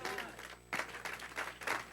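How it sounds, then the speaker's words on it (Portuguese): Church congregation applauding during a Easter communion sermon, a burst of clapping that swells and pulses in waves alongside some background voices. "Dá um aplauso ao Senhor Jesus."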